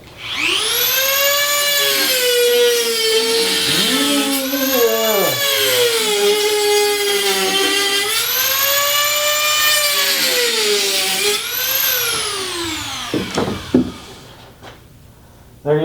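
Power tool cutting notches into a homemade Pelton wheel cutting disc: a loud, high, screaming whine that rises and falls in long passes, then stops with a few clunks near the end.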